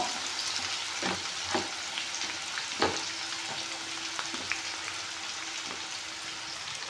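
Onions fry with a little salt in a pan for a prawn and brinjal dry palya, a soft, continuous hiss broken by occasional light spatula scrapes and ticks, close by and with no talking.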